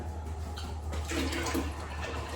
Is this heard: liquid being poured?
yes